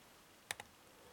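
Two quick, faint metallic clicks close together, pins setting while a five-pin Ruko lock is being picked, isolated against a quiet background.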